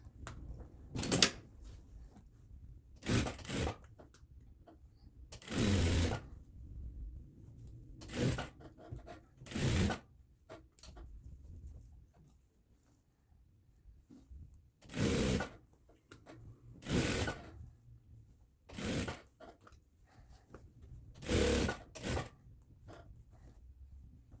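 A sewing machine stitches around the pinned edges of a three-tiered dress in about a dozen short, close whirring runs separated by quiet pauses.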